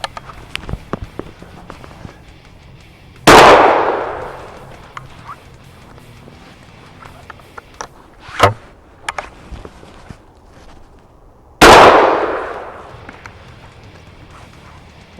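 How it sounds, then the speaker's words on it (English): Two loud, sharp shotgun blasts from a Berika Arms SS410 single-shot .410 loaded with 3-inch triple-aught buck, fired outdoors at a range several seconds apart, each with a long decaying echo. "I'm going to shoot 2 rounds and see what the pattern looks like"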